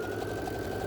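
A sewing machine stitches binding onto a quilt with a lengthened stitch, giving a steady, even mechanical hum with a faint rapid rhythm, close and continuous throughout, with no talking.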